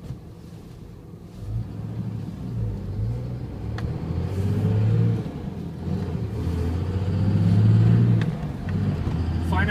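A 2007 Dodge Ram pickup truck starts out in second gear, its low engine rumble rising and falling as it pulls away and builds speed, moderately loud and fairly close.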